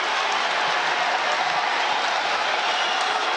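A crowd at a Calvin versus Hope men's college basketball rivalry game roars and claps in a continuous, dense wash of noise, steady and loud with no single voice standing out.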